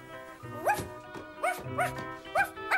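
A small dog barks in short, high, yappy bursts, about five barks spaced unevenly across a few seconds, close and fairly clear with no talk over them.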